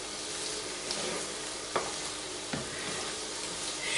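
A chicken meal frying in a pan, with a continuous bright sizzle and a few soft knocks of stirring, close and steady with no talk.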